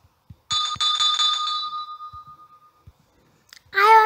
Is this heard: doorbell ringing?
yes